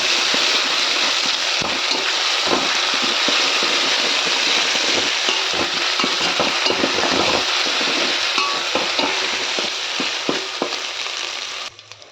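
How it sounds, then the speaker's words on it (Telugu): Ginger garlic paste fries and sizzles in a pan for khichdi, a loud continuous hiss broken by repeated scraping stirs, fading out abruptly at the end. "ఇందులో కొంచెం అల్లం వెల్లుల్లి పేస్ట్ వేసుకొని బాగా కలుపుకోవాలి"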